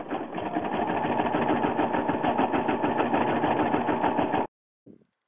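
A Brother 990D sewing and embroidery machine stitches a Tinker Bell design on fleece with a steady, rapid mechanical chatter, close and even, for about four seconds before stopping abruptly, followed by a brief faint tone.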